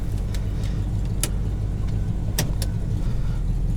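A 1980 Pontiac Firebird engine idles steadily just after starting, a loud constant low rumble with a few light clicks and taps over it, no talking.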